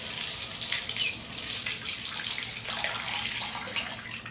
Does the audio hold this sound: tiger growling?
no